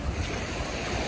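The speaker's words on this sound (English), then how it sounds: "And now the waves are a little bit calmer." Calm ocean waves wash in at Milford and Takapuna beach near high tide, a brief steady roar of surf with wind buffeting the microphone.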